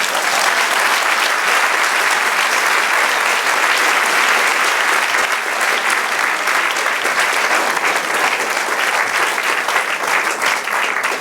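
A church congregation bursts into sustained applause during a sermon, a dense, steady clapping that fills the space for about eleven seconds with a faint crowd murmur beneath.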